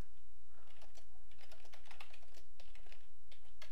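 Quick, close clicking of keys on a computer keyboard as a code comment is entered, in an uneven rapid flurry lasting a few seconds with no talking.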